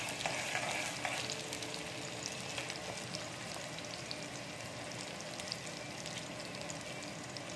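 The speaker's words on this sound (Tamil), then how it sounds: "வெங்காயம் நல்லா பொரியட்டும்" Onions frying in hot oil make a soft, steady crackling sizzle, with light stirring throughout and no voices.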